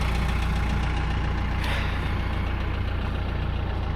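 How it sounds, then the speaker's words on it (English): A TYM 474 tractor engine warms up at idle, a loud, steady diesel rumble with an even knocking pulse, close by and continuous throughout with no talking. "Tractor's warming up."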